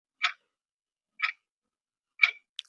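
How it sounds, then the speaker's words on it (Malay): Clock ticking at night in a silent room, three crisp, evenly spaced ticks about a second apart, then a fainter partial tick, with dead quiet between them. "Bunyi jam berdetik."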